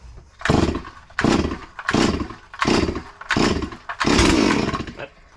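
A ported Farmertec MS440 kit chainsaw, left sitting for months, fires up and runs in loud, close, rhythmic bursts of throttle, roughly five or six rising snarls each cut off by short dips before a longer rev at the end.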